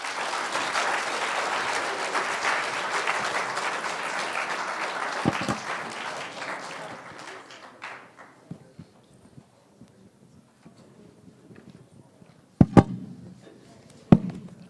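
Audience applause after a student health and nutrition presentation, dense clapping that tapers off over several seconds into scattered claps and a few sharp knocks near the end.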